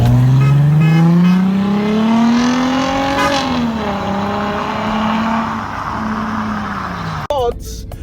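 A Mercedes-Benz W204 C-Class's loud, raspy, nearly straight-piped exhaust revs up in a rising roar, holds, then drops back to a rough idle; a brief sharp noise cuts in near the end.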